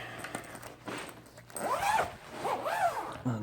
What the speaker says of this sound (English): Unzip one.